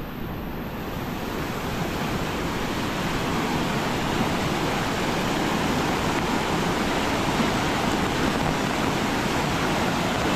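Floodwater from an overflowing river rushes in a loud, unbroken roar that holds steady and close throughout.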